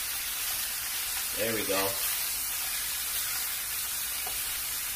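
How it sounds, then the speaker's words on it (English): Pork chops sear in a hot pan with a constant loud sizzle and hiss, and someone speaks briefly near the start. "Now we're going to flip them over. Sear that opposite side."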